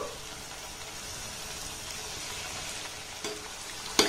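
Egg and flour snacks frying in oil over a low flame, a soft, even sizzle close by with a couple of brief clinks near the end.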